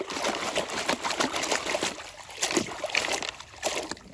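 Water trickles and splashes steadily while a toy bulldozer vehicle is washed by hand, with small sloshes and drips close by.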